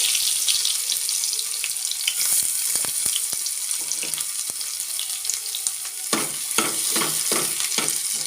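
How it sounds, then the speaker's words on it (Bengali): Whole cumin seeds and chopped garlic sizzle and crackle in melted ghee for a dal tadka, a steady close hiss with bursts of stirring near the end, no voices. "এবার তড়কার জন্য ঘি গলিয়ে নিয়ে দেবো গোটা জিরে, রসুন কুচো,"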